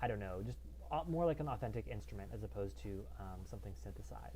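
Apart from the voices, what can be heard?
No everyday noises stand out.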